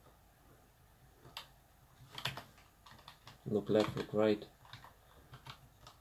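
Computer keyboard keys clatter in short bursts of rapid clicks while someone plays Euro Truck Simulator, under quiet spoken words nearby.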